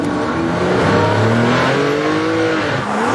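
A Ferrari P4/5 by Pininfarina sports car's engine roars at high revs on a track, its pitch climbing and shifting as it accelerates, loud and close with no talking.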